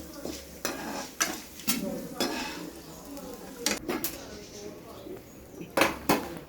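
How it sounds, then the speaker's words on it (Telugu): Fenugreek seeds and other ingredients for banana flower chutney frying in a pan, with repeated sharp scraping and stirring clatters of a spatula against the pan over a soft sizzle. "ఇవి ఎర్రగా వేగిన తర్వాత పక్కకి తీసుకోవాలి"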